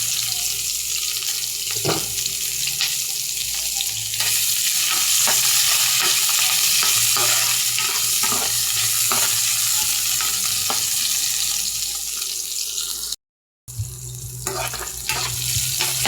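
Squid sizzles and fries in a hot pan, a loud, continuous crackle with stirring clatter over it and a brief cut near the end.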